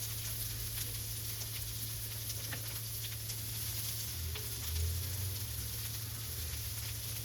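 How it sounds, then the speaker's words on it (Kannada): Curry leaves and finely chopped onion sizzle in hot oil, giving a steady, quiet hiss and crackle close by with no talking. "ಎಣ್ಣೆ ಕಾದಿದೆ ನೋಡುವ. ಕರಿಬೇವು ಮತ್ತೆ ಸಣ್ಣಗೆ ಕಟ್ ಮಾಡಿರೋ ಈರುಳ್ಳಿ."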